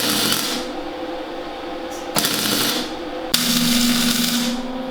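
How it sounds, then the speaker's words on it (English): A MIG welder running 0.025 wire with machine-controlled argon gives a loud, steady crackling hiss in three long bursts, each ending abruptly before the next begins. "Yeah, that's welding."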